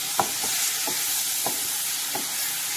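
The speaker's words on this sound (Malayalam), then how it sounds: "നല്ലപോലെ ഒന്ന് ഇളക്കി കൊടുക്കാം" A spoon scrapes and stirs ground tomato paste in a hot pan for kabsa, with about five distinct scraping strokes over a constant soft sizzle, close up with no voices.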